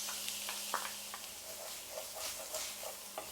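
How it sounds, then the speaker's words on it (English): Onions sizzling in a hot pan, a soft continuous frying crackle with occasional stirring scrapes, quiet and close with no talking. "And now I'm going to add in our onions"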